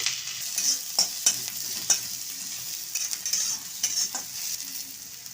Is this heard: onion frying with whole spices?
yes